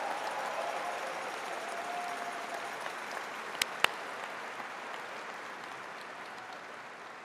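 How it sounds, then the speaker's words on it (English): Steady, sustained applause from a sizable crowd at a college honors medals ceremony, a dense wash of clapping that holds at an even level throughout, with a couple of sharp louder claps near the middle. "could we please give them all a big round of applause"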